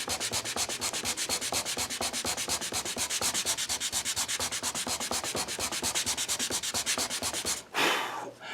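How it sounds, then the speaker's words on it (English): Hand sanding a cherry wood plate with the grain: quick, even, rhythmic rasping strokes, close and steady, ending in a brief louder rub. "now I'm going to go with the grain so I won't leave. I'll sand out what marks I made"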